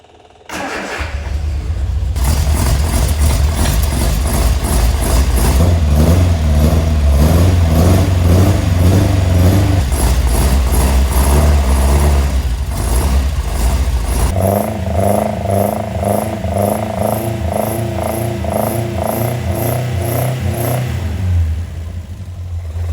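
An engine with carburettors cranks on a starter motor whose sticking Bendix has just been reset, catches after about two seconds, and then runs loud and close with a steady throb, its pitch dropping partway through before cutting at the end.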